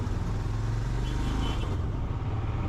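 A vehicle drives away from a waterfall in Munnar with a steady, close engine rumble and road noise that stays loud and even for the whole short stretch.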